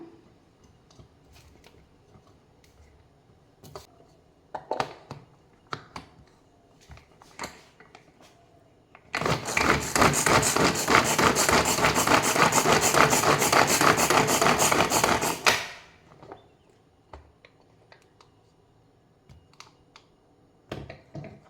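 An electric chopper whirs loudly for about six seconds, mincing banana stem for a Kerala thoran, with quieter kitchen clatter and taps before and after.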